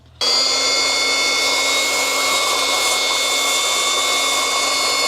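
A Milwaukee track saw starts up and runs steadily with a high whining buzz, cutting through a large timber; the motor noise is loud and continuous after a brief quiet start.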